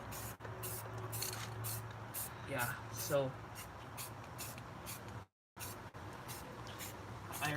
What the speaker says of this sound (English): Spray the other side a little.